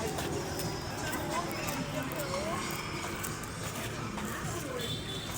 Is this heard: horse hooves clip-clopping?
yes